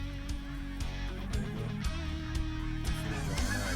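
Canada geese honk repeatedly on a Washington goose hunt, with a steady run of calls over constant background noise, close and fairly loud throughout.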